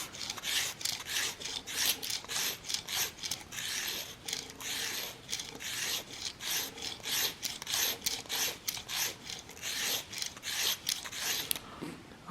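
A VPA Omega broadhead's cutting edge is sharpened with quick, repeated rasping strokes for about twelve seconds. The metal-on-abrasive scraping is close and rhythmic, and no one speaks.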